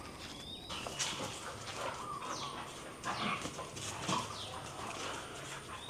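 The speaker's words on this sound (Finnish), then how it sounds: "koirillakin on aamupelit menossa" Two dogs at their morning play outdoors, scuffling and yipping in bursts with faint chirping in the background, moderately close and without any talking.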